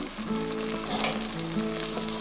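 Tomato and ginger garlic paste fry in a pan for Andhra-style chicken korma, a loud continuous crackling sizzle with a faint steady tonal hum underneath and no talk.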